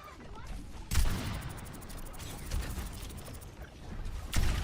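Gunshots from the shooter game Overwatch during a match, with sharp bursts near the start and end over a dense, busy mix of weapon and ability sounds.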